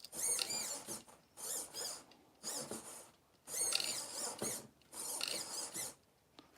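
The steering servo on a Trail Rider 570 RC crawler, run at raised voltage, turns quickly back and forth in five short bursts of high, buzzy whirring, close and fairly quiet, with brief silences between them.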